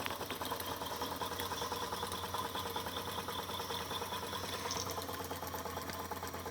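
A Jensen 70 live steam engine drives a generator, running as a steady, even mechanical chug and whir with a fast repetitive beat, close and constant throughout.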